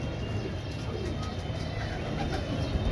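A young grey pigeon cooing softly against a steady wash of background noise.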